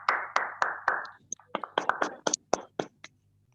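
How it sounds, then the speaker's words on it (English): Scattered applause from a small audience at a Toastmasters club meeting in Kolkata: distinct individual claps in an uneven rhythm for about three seconds, fairly close and moderately loud, with faint voices murmuring underneath. "Can we have a huge round of applause for the table topic masters"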